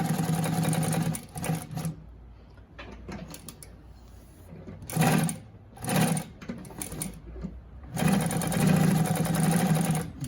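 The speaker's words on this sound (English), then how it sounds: "you see how easy this machine is sewing" A Consew P1206RB-1 walking foot sewing machine stitches through four layers of material, its close, steady mechanical whir coming in several bursts, two longer runs at the start and end and short spurts in between, with quieter pauses.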